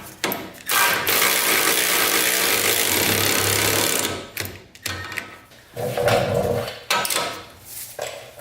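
A ratchet tightens the hub nut on a Toyota 4Runner during a manual hub swap, giving a few seconds of loud continuous mechanical rattling followed by shorter bursts separated by pauses, close and with no talking.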